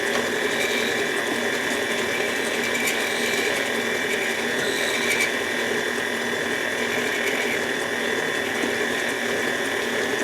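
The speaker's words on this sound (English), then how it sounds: "we want to get our KitchenAid going again" A KitchenAid stand mixer churns banana bread batter with a steady, continuous mechanical whir and a faint rhythmic clicking, close and unbroken throughout.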